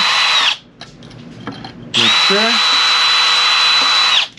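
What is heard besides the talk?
power drill drilling metal on Jeep WJ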